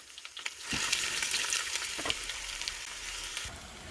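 Steady sizzling of mustard seeds, curry leaves and onions frying in hot oil, with a few sharp pops and crackles breaking through the continuous hiss.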